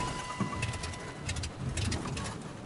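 Soft pigeon-like cooing from a bird in Fortnite gameplay, a few low hooting phrases repeating at moderate distance over faint game ambience.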